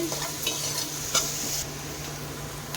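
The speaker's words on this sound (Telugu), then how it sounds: "ఆనియన్ కలర్ చేంజ్ అయ్యే వరకు వేయించుకోవాలి" Onions and round-cut green chillies fry steadily in a pan for chicken fried rice, a continuous close sizzle with light stirring scrapes and a brief louder clatter midway.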